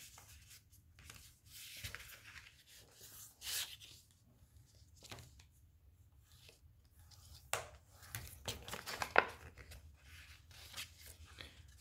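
A paper-scoring tool pressed along fold lines on paper for a handmade photo album, giving faint, intermittent scraping and rubbing strokes with brief quiet gaps.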